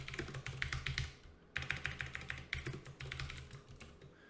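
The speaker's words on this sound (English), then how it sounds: "I can type whatever I want in here." Steady typing on a computer keyboard into a Notepad++ window on Windows, quick close keystrokes in two runs separated by a short pause, with no talking.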